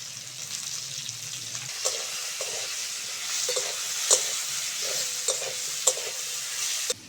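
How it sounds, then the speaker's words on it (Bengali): Cauliflower and tomato fry in a pan with a steady sizzle, while a spoon stirs and scrapes in a few sharp clinks and knocks; a low hum fades out early. "ফুলকপিটা হালকা করে ভেজে নিয়েছি, এবার টমেটোটা দিয়ে দেবো"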